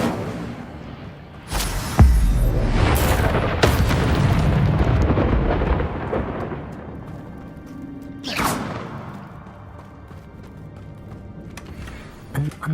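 Hogwarts Legacy Incendio fire spell bursting out with a loud whooshing blast, then rumbling flames and a second sharp flare partway through, fading into ambient cave sounds.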